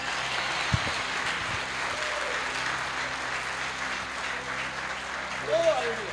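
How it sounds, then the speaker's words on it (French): Steady applause from a church congregation with a preacher calling out praise in French over it, continuous clapping throughout. "Applaudissez le Seigneur. Applaudissez, alléluia."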